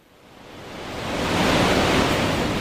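Incoming wastewater rushes through the bar screens at the Lulu Island treatment plant in Metro Vancouver, a steady broadband roar of churning water that swells louder over a few seconds, with no talking.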